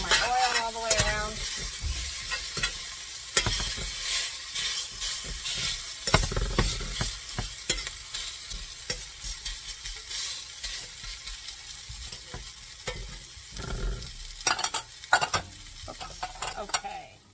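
Ham hash frying in oil in a pan, a steady close sizzle broken by repeated scraping and clattering stirs of the utensil against the pan.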